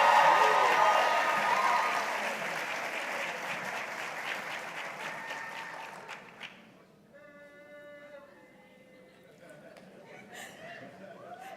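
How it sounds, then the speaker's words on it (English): Loud applause from a crowd at a promotions ceremony fades gradually, giving way to a quieter room with a few scattered claps and faint background sounds. "let's keep the applause going for Major Barry Lindquist."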